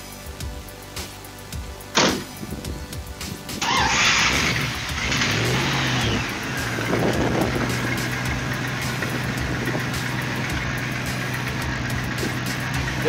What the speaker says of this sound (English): start the car, and then activate the airbag